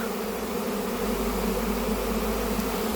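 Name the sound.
honey bee swarm buzzing around a bait box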